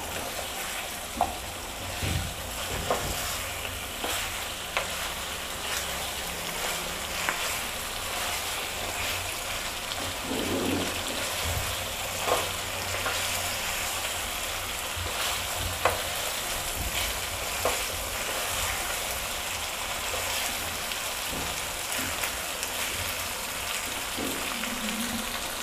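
Masala frying over a raised flame in a pot for chicken soup, a steady broadband sizzle with scattered scraping stir clicks running continuously at moderate level, no talk.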